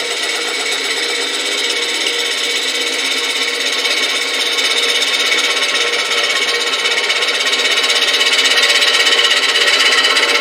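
A woodturning tool makes one last pass across the bottom of a bowl spinning on a lathe, giving a steady, loud, continuous scraping hiss that builds slightly toward the end, with no voices.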